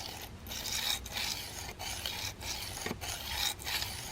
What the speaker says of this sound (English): So you're going to be laying the diamond grit flat on the blade.